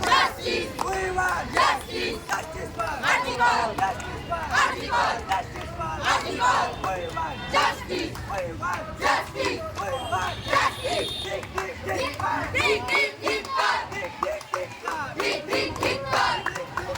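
A protest march by the Amra Padatik group from Sonagachi over the RG Kar incident: a large crowd chants loud rhythmic slogans in repeated call-like bursts, continuous and close, with shouting voices throughout.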